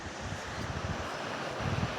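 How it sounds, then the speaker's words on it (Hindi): Waterfall flowing steadily in a pilgrimage setting, a broad continuous rushing roar with low rumbling swells, close and fairly loud, with no voices over it. "ये झरना बह रहा है यहाँ"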